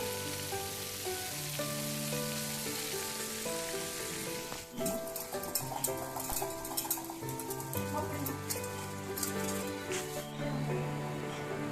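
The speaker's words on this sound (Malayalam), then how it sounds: "അതുകൊണ്ടാണ് ഇതിലിട്ട് ഫ്ലെയിമിലിട്ട് നന്നായിട്ട് സ്ലോ ആയിട്ട് തന്നെ അത് ഫ്രൈ ചെയ്തെടുക്കണം." Marinated chicken for KFC-style broasted chicken fries slowly in hot oil, giving a dense, continuous close sizzle with a soft, steady crackle throughout, under quiet background music.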